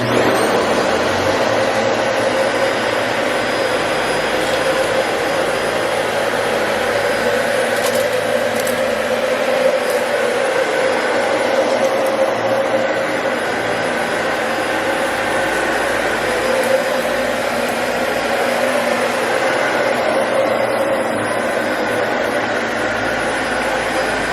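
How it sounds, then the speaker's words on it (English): A Dyson Slim Ball upright vacuum cleaner runs steadily and loudly throughout, a constant motor whine and airflow roar as it sucks up dust and wallpaper debris in a new house, with no talking. "I'm just gonna get rid of that with the vacuum"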